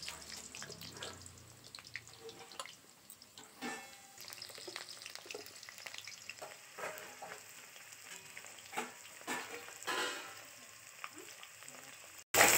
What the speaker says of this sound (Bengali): তেলটা গরম হয়ে গেলে কেটে রাখা আলুগুলো তেলের মধ্যে দিয়ে হালকা লাল করে ভেজে নেব।